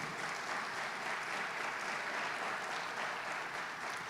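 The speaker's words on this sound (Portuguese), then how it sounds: "Aplauda Jesus se você vai subir." A church congregation applauds during a Portuguese-language sermon, a steady, continuous wash of many hands clapping at even volume from start to finish, with no distinct individual claps standing out.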